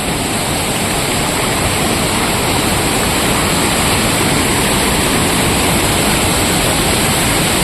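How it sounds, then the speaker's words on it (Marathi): Loud, steady rush of a flowing stream in a Konkan village fills the whole clip, a continuous broadband roar close by with no pauses. "तिथे तो झरा आहे"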